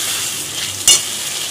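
Water splashed into hot oil in a pan for an aloo potol shrimp curry bursts into a sudden loud sizzle after a steady frying hiss, then settles back to a continuous crackle.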